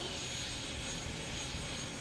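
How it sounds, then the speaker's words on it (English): A Y2K turbine-powered motorcycle engine gives a steady, loud jet-like whine and roar, a continuous broadband rush with no breaks and no voices. "the y2k makes a sound signature unlike anything else on wheels"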